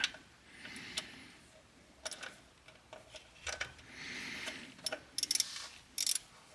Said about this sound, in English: 7mm ratchet